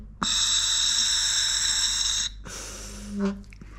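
Breathing through a Deep6 diving regulator second stage during a service check: a close, steady airy hiss of one long inhalation, a short pause, then a second shorter breath ending in a brief rattling exhale.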